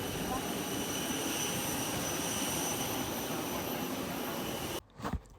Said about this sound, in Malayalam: അങ്ങനെ ഞങ്ങൾ ഫ്ലൈറ്റിൽ കയറി ടേക്ക് ഓഫ് ചെയ്തിട്ടുണ്ട് ഫ്ലൈറ്റ്